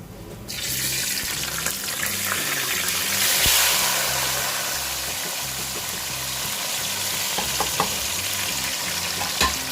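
Masala with cumin fries in a pan for rajma, making a dense, loud, continuous hiss like rushing water that swells slightly, then settles, with occasional faint clicks.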